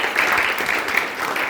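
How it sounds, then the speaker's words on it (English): Students clapping together in a classroom, a brief, steady patter of applause that stays even throughout with no break. "And give a big applause to Deepak sir also."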